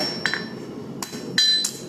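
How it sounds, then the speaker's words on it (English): A blacksmith's hammer strikes metal on the anvil, with four or five sharp ringing blows in an uneven rhythm, some landing as quick doubles, close and loud with no voices. "I run my hammer past the corner of my anvil"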